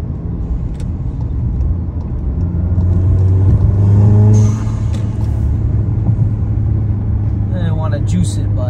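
A car accelerating hard to merge into traffic on a road heading into Waipahu, Hawaii, a steady engine rumble rising to a louder revving push midway, heard from inside the vehicle.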